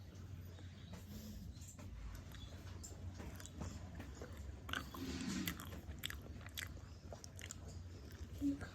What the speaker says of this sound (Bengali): আর এখন কলা খাচ্ছি একটা।